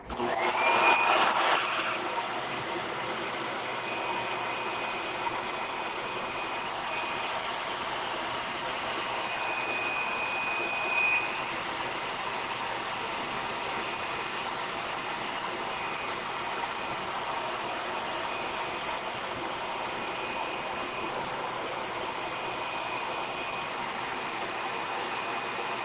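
A hair dryer blows continuously on decoupage paper, a steady, even whooshing drone that runs unbroken for the whole stretch with no speech.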